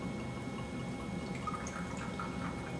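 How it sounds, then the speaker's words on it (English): About 40 milliliters of solution is poured into clean, dry lab glassware. A faint, steady trickle of liquid runs throughout, with a few light splashy drips coming near the end. "So I'll take and I'll pour some of that solution in here."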